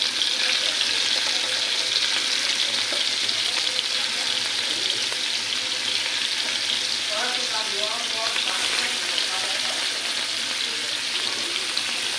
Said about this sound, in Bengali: এখন আমি চিংড়ি মাছটা ভেজে নেব।